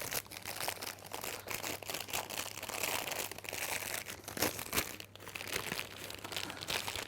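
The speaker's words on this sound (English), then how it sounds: "And then I can just tease the cellophane around the outside of my" Cellophane wrapping crackles and crinkles continuously as it is teased around a hand-tied pink rose bouquet, a close, busy rustling texture with no talking.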